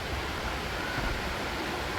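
A mountain river near the sulfur crater of Kawah Candradimuka on Gunung Lawu rushes as a steady broadband wash of water, even and moderately loud, with no voices.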